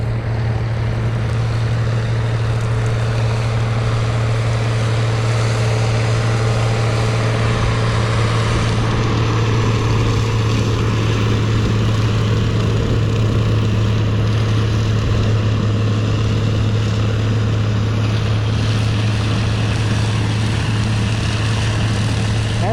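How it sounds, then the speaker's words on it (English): Steady, heavy engine drone of a tractor chopping corn stalks in a field at a vintage farm machinery show, a constant low hum with a strong tonal note running unbroken and fairly close. "Got a guy here chopping stalks."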